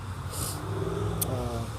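Steady road noise from passing traffic rumbles nearby on wet pavement, with a brief hiss of tires and a distant engine rising in pitch.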